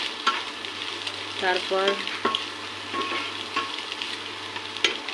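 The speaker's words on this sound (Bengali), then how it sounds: "একটু লবণ, একটু হলুদ, এরপর ভালোভাবে নেড়ে নেব।" Spices with salt and turmeric stirred and frying in a pan for fried rice, a soft steady sizzle with scraping stir strokes close by, one brief spoken word.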